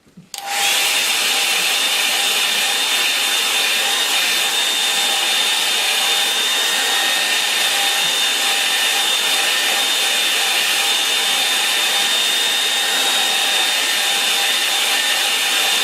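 A hair dryer blows on a watercolour painting of a misty river scene, drying the paint: a steady, loud, close whirring roar with a high whine that starts abruptly and runs unbroken, with no talking.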